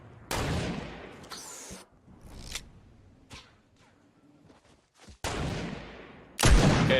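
Scoped revolver gunshots ring out in Fortnite, several loud sharp cracks spaced irregularly with quiet gaps between them, the last two blasts the strongest.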